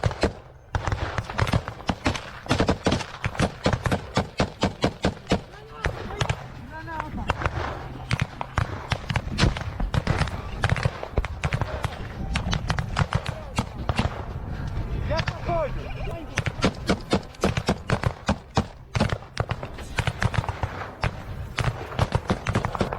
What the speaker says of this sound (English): Ukrainian infantry is engaged in intense firefights with Russian forces